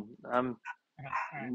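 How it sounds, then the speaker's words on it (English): A pet dog barks a few short yips in a home while a person talks, the barks brief and mid-distance between spoken phrases. "I'm sorry about the dog."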